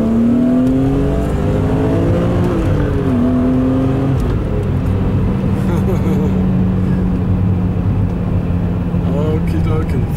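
A car engine revs and pulls away, a steady close drone with shifting pitch as it accelerates, while people talk over it throughout.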